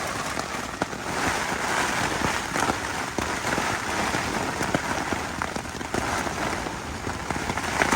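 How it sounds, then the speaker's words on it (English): Strong storm wind and heavy rain beating on a Jack Wolfskin Yellowstone 2 tent, a loud dense patter of drops with sharp gusty slaps against the fabric, close and continuous with no talking. "But that wind is just coming strong."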